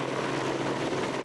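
Helicopter flying during a mountain rescue search by firefighters and an air unit in Minas Gerais and São Paulo, a steady dense rotor and engine roar held close and loud throughout, with no voices.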